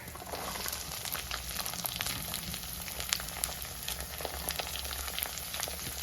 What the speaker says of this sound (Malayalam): ഇനി നമുക്ക് നമ്മുടെ ഉള്ളി ചേർത്ത് കൊടുക്കാം. അരിഞ്ഞു വെച്ചിരിക്കുന്ന ചെറിയ ഉള്ളി.